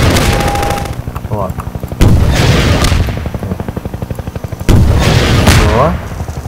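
Automatic rifle bursts in the game Garry's Mod, with two heavy sharp reports and rapid rhythmic firing continuing through, loud and close, with some voice underneath.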